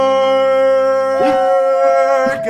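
Stage actors in a Shakespeare play imitate watchdogs barking and howling, with loud, close, drawn-out vocal yowls and short yips in a sustained pitched voice.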